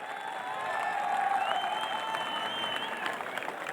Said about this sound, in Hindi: खुश हुए हैं तो ताली पूरी बजाइए।